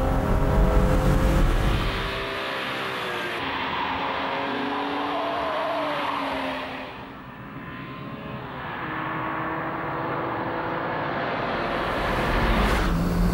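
A BMW 3.2-litre six-cylinder engine under full power, rising in pitch through the gears with a brief dip midway before pulling hard again, loud and close with no talk.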